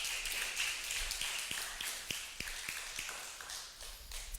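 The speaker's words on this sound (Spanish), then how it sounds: "Un aplauso para ellos" A church audience claps in a brief round of scattered applause, the individual hand claps distinct and fairly faint, tapering off after a few seconds.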